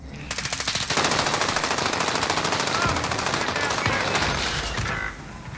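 Sustained machine-gun fire from the video game Call of Duty: Modern Warfare: rapid, evenly spaced bursts form a loud continuous rattle for about five seconds, then drop to quieter background noise.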